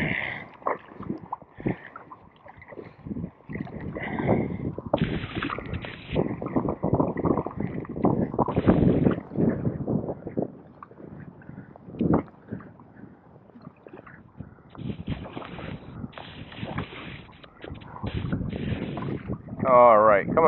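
Kayak paddling at sea off the Isle of Seil, with water sloshing and splashing against the hull and repeated paddle strokes under steady wind buffeting on the microphone, close and moderately loud.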